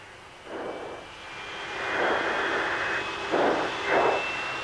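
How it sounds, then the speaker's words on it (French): Several military jet aircraft passing overhead in a Gulf War air attack, a broad roaring rush that swells in repeated waves as planes arrive one after another, fairly loud with no talk. "Très vite, d'autres avions arrivent."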